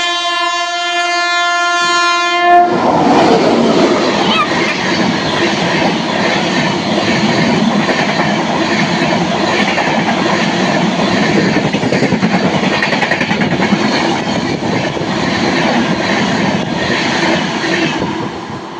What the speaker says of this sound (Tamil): இந்த பக்கம் ஒரு எக்ஸ்பிரஸ் ட்ரெயின் வருது.